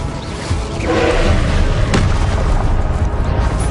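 An Incendio fire spell cast in the Hogwarts Legacy video game gives a loud, rushing burst of flame with a booming, blast-like body, sustained and dense for several seconds.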